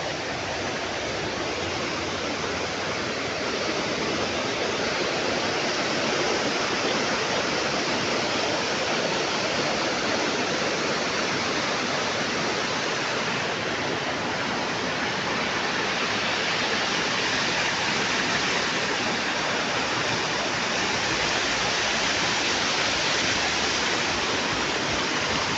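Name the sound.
flowing water of a stream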